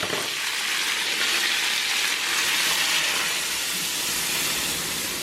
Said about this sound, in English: I'm gonna add some ketchup and some water and let that simmer for a bit